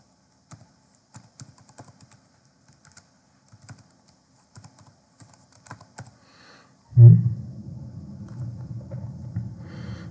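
Keystrokes clatter on a computer keyboard during Photoshop work on a business card, a close sparse run of clicks for several seconds before a louder thump and a low rumbling noise take over.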